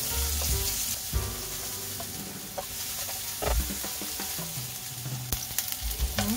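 Shredded ginger stir-fries in a little oil in a wok, a steady close sizzle broken by sharp clanks and scrapes of the spatula against the metal.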